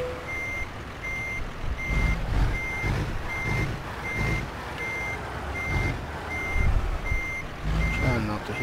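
A Peterbilt truck in American Truck Simulator, steady reversing beeps repeating about twice a second over a low rumbling diesel engine that surges in places, with a brief air hiss near the end.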